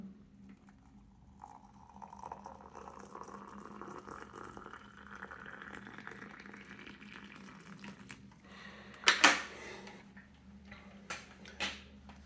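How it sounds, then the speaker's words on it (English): Hot water is poured into a glass carafe holding pu'er tea, a soft, steady trickle over faint background hum, followed near the end by a few sharp clinks and taps of the lid. "Let's add some additional hot water."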